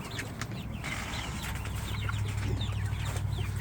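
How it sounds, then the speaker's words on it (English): Chickens cluck and squawk in short bursts against steady farmyard noise while being caught a couple at a time and stuffed into feed bags for moving. "Come on, chicken, get in the bag."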